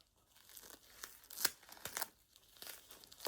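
A used sanitary pad being folded, its plastic-backed layers giving soft crinkles and small tearing rustles in several brief bursts, close and fairly quiet, with no voices.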